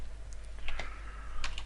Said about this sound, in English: we're going to type the address in where the files are